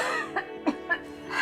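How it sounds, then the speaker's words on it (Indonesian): A woman coughs suddenly in a few short, separate bursts. A soft voiced sound comes first, and a louder cough follows near the end. "Ibu tiba-tiba batuk."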